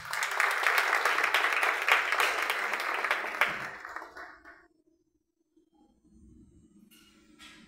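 An audience at a certificate ceremony for young people applauds a speaker, a dense wash of clapping that lasts about four seconds and then fades out, leaving faint room murmur and a few scattered claps.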